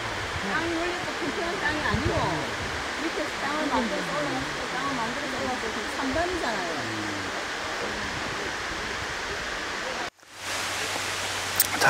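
A steady broad rush of falling water from a scenic Korean waterfall, viewed from Baekho Cave near a suspension bridge, continuous and fairly close, with someone talking over it throughout and a brief cut near the end.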